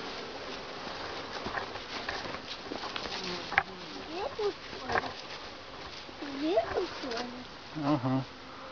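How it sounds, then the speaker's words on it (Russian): Bees buzz around beekeepers at a hive, a fluctuating insect drone close by, with people talking over it. "Есть пчелы"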